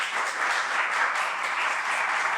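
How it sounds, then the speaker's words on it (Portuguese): Steady applause from an audience at a talk in São Paulo, a dense continuous wash of many hands clapping, moderately loud with no voices on top. "uma salva de palmas, por favor, que vocês merecem"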